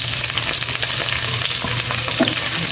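Garlic fries in a pan for pork adobo, giving a steady, loud, close sizzle and crackle with no pauses and no talking.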